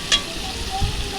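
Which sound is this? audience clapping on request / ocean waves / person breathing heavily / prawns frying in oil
prawns frying in oil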